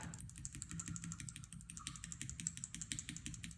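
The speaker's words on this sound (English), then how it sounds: "Okay, let's try out the Gateron Black." Gateron Black mechanical keyboard switches being typed on, a fast run of crisp close clicks and clacks in an uneven rhythm, quiet and alone without any talking.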